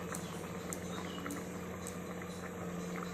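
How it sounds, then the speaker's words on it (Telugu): Egg curry (pulusu) bubbling steadily in a pot, a soft continuous simmer with faint popping bubbles, fairly close and alone without talk. "ఇట్లా ఉడుకుతుందండి కోడిగుడ్ల పులుసు"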